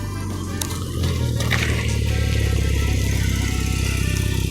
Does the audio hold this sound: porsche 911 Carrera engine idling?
yes